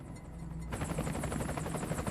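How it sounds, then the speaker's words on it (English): A steady, loud helicopter drone with rhythmic rotor chop starts abruptly and continues, mixed with game-like rumble, in Metal Gear Solid: Peace Walker. "that helicopter has now become a greater threat."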